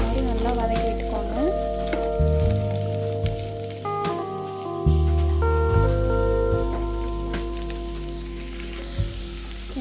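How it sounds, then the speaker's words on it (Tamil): Green beans sauté in a hot oiled pan for sambar, a steady loud sizzle with scraping stirs and shifting crackle throughout, while a voice speaks now and then. "சேர்த்து நல்லா கிண்டி வதக்கிக்கலாம்."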